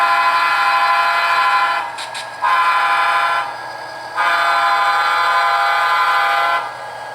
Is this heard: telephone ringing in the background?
no